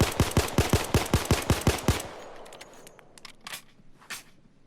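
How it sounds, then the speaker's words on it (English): Rapid burst of about eleven pistol shots from a Glock 17 (Chimano 88) in Payday 2, fired as fast as possible without recoil control, loud and evenly spaced, then a quiet tail with a few faint clicks and clinks. "I'm gonna try and fire this thing as fast as I can without controlling the recoil"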